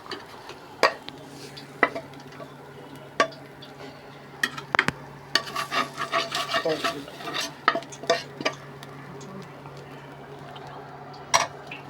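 Cooked leafy greens poured and scraped out of a pan after the stove is switched off, giving a run of close clattering utensil scrapes and clinks over a low steady hum, with no speech.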